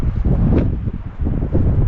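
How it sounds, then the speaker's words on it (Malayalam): Strong wind buffeting the microphone high on the Annapurna Circuit trek in Nepal, a loud, uneven low roar that rises and falls in gusts with no voices. "നല്ല കാറ്റുണ്ട് കേട്ടോ അവിടെ."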